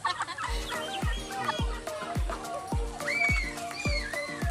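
A flock of Chinese silkie chickens on a farm clucks repeatedly and close by, a steady run of short clucks with higher squawks and calls mixed in, and no one speaking over them.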